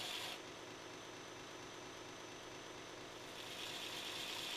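A Scotch-Brite type abrasive belt sanding the bevels of a metal knife blade, a continuous loud rasping hiss with the grinder running steadily throughout, a little brighter at start and end.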